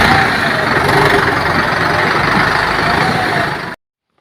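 A motorbike engine runs steadily and loudly, with a rough, even drone that holds for several seconds before cutting off abruptly.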